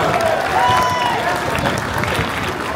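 A crowd applauds for cyclist Anthony Turgis at the Paris-Roubaix 2024 rider presentation, steady dense clapping with a brief whistle-like tone early on, holding level throughout.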